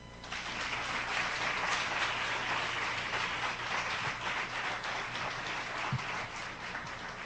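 An audience at a church congress session applauds steadily, a dense continuous clapping that holds at moderate level throughout, with a couple of brief low thuds.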